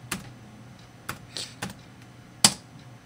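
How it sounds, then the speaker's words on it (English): A few sparse keystrokes clack on a computer keyboard, typed slowly and sideways at uneven intervals, close and fairly crisp, with one sharper final tap and no speech. "I'm typing sideways, so I can't really type the right way"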